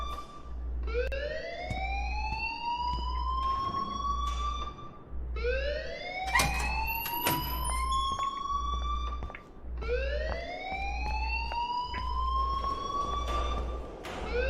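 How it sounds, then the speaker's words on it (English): An alarm in the video game Life is Strange blares as a loud, siren-like wail that sweeps upward, repeating three times over a steady low pulsing hum. "please turn off that alarm since that's your job"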